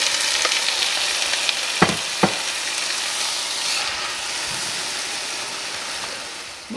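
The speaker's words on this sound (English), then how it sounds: "We'll saute this for about 15-20 minutes." Vegetables sauteing in a pan for a cheesy Cajun shrimp pasta, a loud continuous hiss of frying broken by a couple of sharp utensil taps early on.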